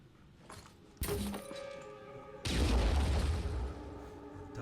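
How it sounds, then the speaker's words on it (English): A grenade fires from a launcher in the tactical strategy game Phoenix Point, a sharp pop followed by a heavy, close boom at mid-clip that rolls into a long, loud rumble. No voices are heard. "see if we can launch a grenade right here"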